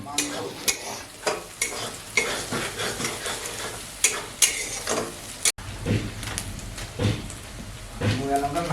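Masala for a country duck curry is stirred and fried in a pan, with repeated scraping strokes over a steady sizzle and clattering utensil knocks, close up, while someone talks over it.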